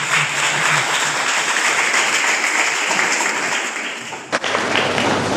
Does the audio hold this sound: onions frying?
no